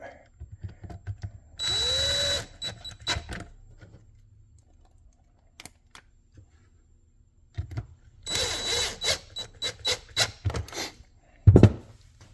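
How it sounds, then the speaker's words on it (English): A power screwdriver drives screws back into a Shark Hydrovac vacuum housing during a micro switch repair. It gives two loud whirring bursts up close, each followed by scattered plastic clicks and handling taps, with no talking. "we'll put those two screws back in and resecure that"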